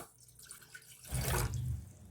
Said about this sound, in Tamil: அதில் நம்ம 2 டம்ளர் தண்ணி சேர்த்துக்கலாம்.